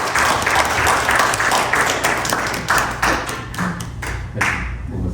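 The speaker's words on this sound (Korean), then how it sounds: "박수 한번 크게 하나님께 올려드리기 바랍니다" Loud applause with scattered claps and thumps fills a church hall during a Lunar New Year thanksgiving service for Korean elders in greater New York, sustained for several seconds before tapering off.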